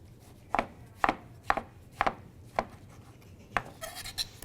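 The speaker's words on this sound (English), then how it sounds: "And we'll just lay our slices down and chop across them." A knife chops across tomato slices on a cutting board for nachos, giving six sharp, evenly spaced knocks close up, then a brief scraping rustle, with no talking.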